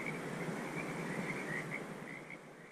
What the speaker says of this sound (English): you can hear the northern red-legged frogs call.